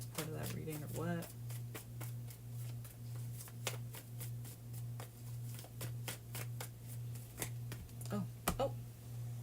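A deck of tarot cards is shuffled with a run of quick, crisp riffling flicks over a steady low hum, and a short burst of voice near the start.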